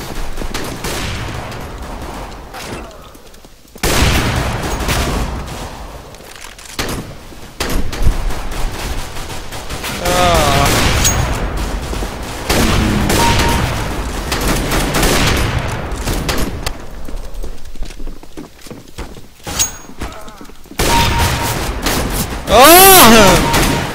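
Gunfire in Counter-Strike: Global Offensive, loud close bursts of rapid automatic shots and single cracks in repeated volleys, with a player talking excitedly between and over the shooting.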